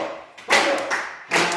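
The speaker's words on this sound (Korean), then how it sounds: "자, 박수!" A group claps hands together in a church children's lesson, a burst of claps starting partway in, pausing briefly, then resuming, close and moderately loud with no talking.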